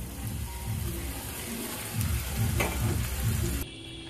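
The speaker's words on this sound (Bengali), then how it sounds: "এরপর আমরা টমেটোর পেস্টটা দিয়ে দিচ্ছি।" Tomato paste goes into a frying pan with chicken seasoned with salt, turmeric and curry powder, setting off a loud close sizzle with stirring scrapes that swell midway before the frying eases.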